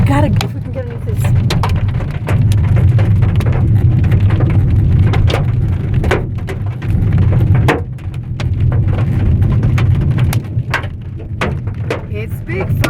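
A hailstorm in the Andes near Mendoza, Argentina, producing a dense, loud, continuous drumming of stones striking a hard surface close by, with people exclaiming over the din.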